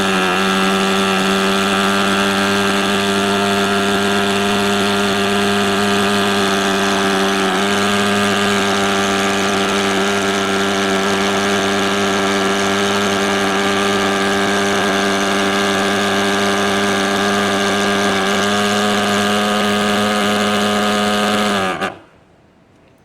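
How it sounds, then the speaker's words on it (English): A TS35A machine's engine runs loud and close with a constant droning hum for over twenty seconds, then cuts off abruptly near the end. "start up the machine"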